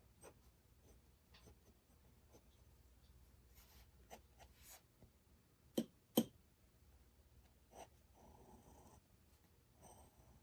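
A glass dip pen scratches softly across paper in short, faint strokes and ticks, with a couple of sharper taps midway and quiet rubbing between.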